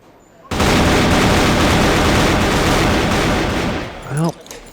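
A gunfight in the CrossFire shooter erupts suddenly as a dense, continuous burst of rapid gunfire that stays loud for several seconds before easing off, with a voice cutting in near the end.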